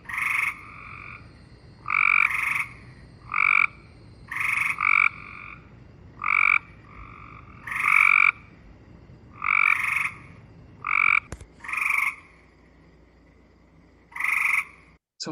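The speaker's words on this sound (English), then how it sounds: "I'm going to overlay the gray tree frog in here" Cope's gray tree frog and gray tree frog calls overlap in a series of short, loud, buzzy trills repeating every second or so, close and clear against quiet background.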